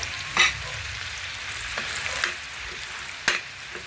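Filipino pork sisig with two eggs and calamansi sizzles in a hot pan as it is stirred, giving a steady soft frying hiss with a few distinct scraping clatters of the utensil, no talking.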